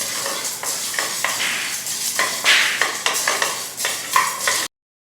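Spices dry-roast in a pan, with repeated scraping and stirring strokes, light clinks and a faint dry sizzle, close and fairly loud, before an abrupt cutoff.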